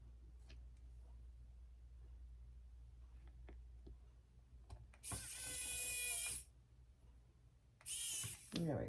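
A handheld power driver runs screws into the frame of a sewn swing bag, with two short bursts of whirring drive separated by faint clicks and handling noise in a quiet room.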